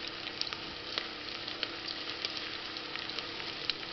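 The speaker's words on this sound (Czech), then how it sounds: "Dala jsem si cibulku osmahnout." Onion sautés in a pan for Czech cabbage soup, a soft, steady sizzle dotted with small regular pops and crackles, fairly quiet and close.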